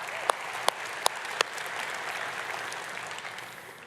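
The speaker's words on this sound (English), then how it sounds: "we can clap for that" A small crowd claps, a few sharp early claps giving way to sustained, moderately loud applause that carries on to the end.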